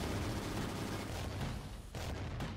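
Sustained rapid gunfire from a Call of Duty custom zombies map, a dense continuous burst filling the whole stretch with a brief dip near the end before resuming, loud and close.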